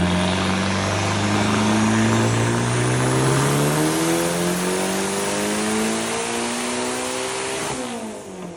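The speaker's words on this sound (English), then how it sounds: "we strapped the car to the dyno, did a very casual 450 wheel baseline pull" A heavily modified 600 whp Mazda Miata roars on a dyno during a baseline pull, its engine note climbing steadily in pitch for several seconds at full volume before easing off near the end.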